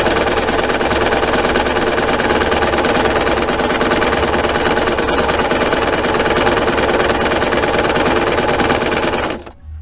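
A sewing machine stitches close along the edge of an apron's fabric, giving a steady, dense mechanical whirr that runs unbroken for about nine seconds before cutting off abruptly.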